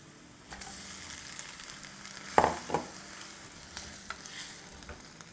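Bone-in chicken, about a kilogram, hits a hot pan over a medium-high flame for chicken korma and sizzles steadily, with a few sharp spoon-and-pan clatters from stirring.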